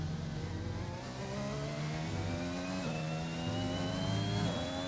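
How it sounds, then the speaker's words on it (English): An F1 2021 video game car engine with full traction control drones steadily and strains without climbing freely, a continuous buzzing whine that shifts pitch slightly. "you can hear how the engine is bogging down because the game is limiting you"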